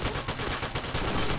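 Rapid, continuous gunfire from the zombie mode of the shooter game Point Blank, loud dense volleys of shots filling the whole stretch without pause.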